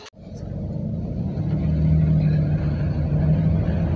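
Chevrolet Astro van cruising on a test drive after differential preload adjustment, a steady loud low engine and road rumble with a faint hum throughout, no talk.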